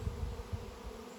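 Honeybee swarm flying around, a steady low buzzing drone with soft pulsing swells, fairly close and continuous, no voices.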